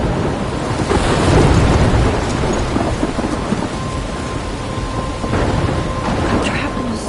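Thunderstorm in the PS4 video game Life Is Strange: loud, continuous pouring rain with heavy rolling thunder rumbles swelling and fading across the whole stretch, no voices.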